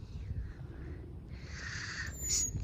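Bird calling outdoors on a lawn, a few faint wavering calls over low rumbling background noise, with a thin high-pitched note near the end.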